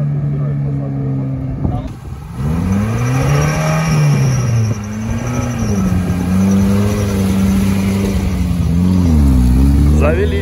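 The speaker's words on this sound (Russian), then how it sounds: "Завелись, парни едут." An off-road vehicle at an off-road competition, its engine starting and revving up and down in rising and falling sweeps, loud and close, with people talking over it.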